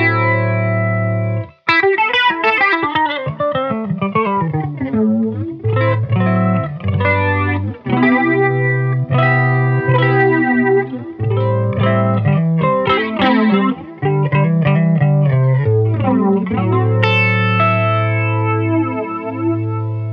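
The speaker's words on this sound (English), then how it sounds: "That's where we're going to get the flange sound." Electric guitar played through a Spaceman Meridian Time Modulator flanger pedal, a sustained melodic line with sweeping, swirling flange modulation over held low notes, loud and continuous with no talk.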